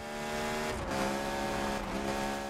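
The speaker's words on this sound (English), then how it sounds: "starting me off in a tunnel with that crazy, loud 10 grand RPM redline" Game car engine in Need For Speed screaming toward a 10,000 RPM redline inside a tunnel, a loud, sustained high-pitched wail that dips and climbs again through shifts, heard alone.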